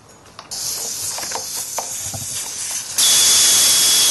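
Air hisses steadily out of a motorcycle tire as the valve stem is removed, the rush jumping louder partway through and continuing as a loud, close hiss.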